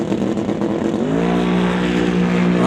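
A drag race car at the starting line builds boost on the brake, its engine droning loud and close, then rising in pitch as it bumps in toward launch.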